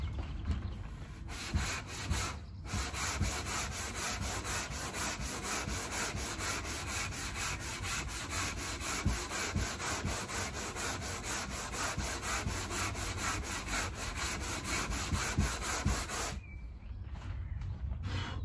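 A sanding block rubs steadily back and forth over car body filler on a front wing after a guide coat spray, making a continuous close scratching hiss with a couple of brief pauses and no talking.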